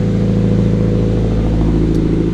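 Scion FR-S engine running at steady revs, a loud close droning hum with strong low tones and a faint rattle throughout, with no speech.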